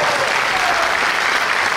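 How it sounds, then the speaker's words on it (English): A concert crowd at a Las Vegas tribute show gives a thick, sustained round of applause. The clapping stays loud and even from start to finish. "So give them a round of applause."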